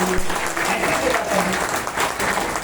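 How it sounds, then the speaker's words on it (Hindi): A crowd at a training gathering claps loudly and continuously in a steady, dense round of applause. "एक बार जोरदार ताली बजाइए"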